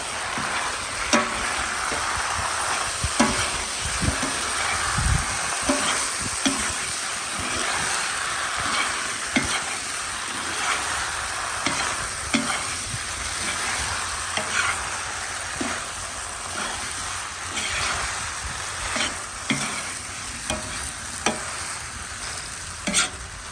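Goulash ingredients sizzle steadily in a hot pan while a utensil stirs and scrapes, with frequent light clinks against the pan throughout.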